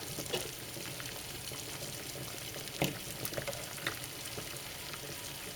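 Water heating close to boiling in a pot during an automotive thermostat test, a quiet continuous bubbling hiss with occasional small pops and gurgles, heard alone.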